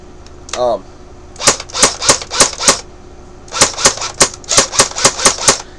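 Cyma AK47 airsoft gun fired in two quick bursts of about six and eight sharp snapping shots each, close and loud, separated by a short pause, with a brief whirring sound at the start.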